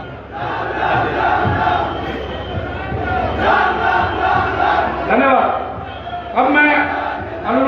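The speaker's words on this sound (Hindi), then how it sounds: "तालियां बज रही हैं।" A large crowd roars and shouts steadily at a political rally attended by JP Nadda and the Chief Minister, with loud, dense, continuous cheering and voices filling the whole stretch and brief swells near the end.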